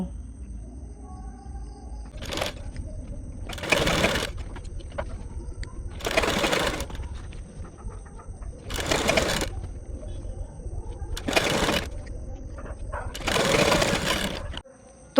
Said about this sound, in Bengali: এবার কিন্তু আমি হেম সেলাই দিয়ে নেব